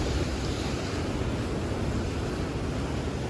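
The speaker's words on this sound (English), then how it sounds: "wonderful, huge, gigantic, cold waves" Large, cold ocean waves crash at a beach in a continuous, loud roar of surf mixed with gusty wind noise on the microphone, with no talking.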